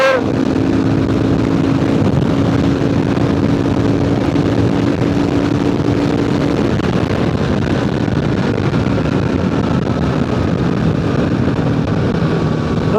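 A KLR650 adventure motorcycle accelerates hard through second to fifth gear, reaching about 90 mph on the highway. A loud, steady engine drone mixes with wind rush, and the pitch drops at a gear change partway through.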